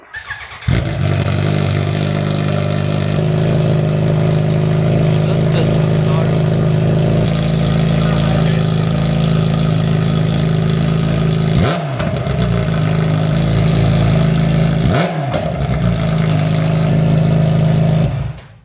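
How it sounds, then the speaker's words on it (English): A motorcycle with a straight-pipe exhaust and no muffler roars loudly and steadily up close, holding a sustained high rev with two brief dips where the throttle drops and climbs again. "Let's go ahead and sound test it to see how much louder it is without any muffler on here."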